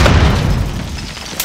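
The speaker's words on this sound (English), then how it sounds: "Grenade out!" A grenade explosion booms loud and close, a heavy deep blast that rolls off and decays over a second or so, with no voices.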